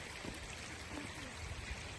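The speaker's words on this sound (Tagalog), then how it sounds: "So, yan ang lakas ng tubig galing sa bundok." A mountain stream fed by melting snow runs near Grassi Lake in Alberta, a faint, steady rushing flow with small gurgles and no talk.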